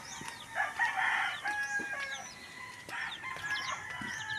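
Hens cluck and call in short bursts, with a rooster-like crow and faint bird chirps in the background; no talking.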